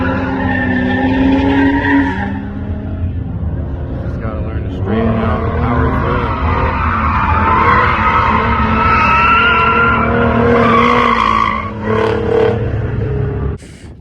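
A 1990 Nissan 300ZX drifts with sustained loud tire squeal and skidding over a droning engine, the squeal wavering in pitch before cutting off near the end; a voice talks faintly underneath.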